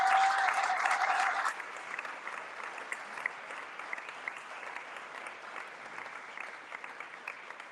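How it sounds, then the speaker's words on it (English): Audience at a football awards event applauding, a loud burst of clapping that drops after about a second and a half into quieter, scattered claps continuing to the end. "So everybody, please, big round of applause for Tom Canning."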